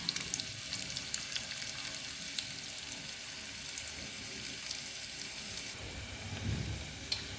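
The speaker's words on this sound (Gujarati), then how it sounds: "કોબીજને થોડું આપણે સાંતળી લઈશું।" Cabbage sautéing in a hot pan gives a continuous close sizzle with a watery, hissing texture and a few faint clinks, steady at moderate level, ending with a low bump and a sharp knock.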